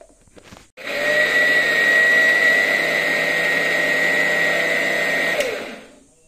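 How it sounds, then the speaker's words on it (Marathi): A kitchen mixer grinder whirs loudly and steadily for about five seconds as it grinds a coconut and cumin mixture for Konkan sol kadhi, starting abruptly and cutting off near the end, with no talk. "असं सगळं जे आपलं मिश्रण आहे ते आपण पहिल्यांदा मिक्सरला वाटून घेऊया"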